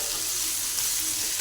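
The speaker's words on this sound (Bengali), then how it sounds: "এবার একটু দিয়ে দেব জল" Water pours steadily into a pan of potato and pointed gourd curry, a continuous close splashing rush with no talk.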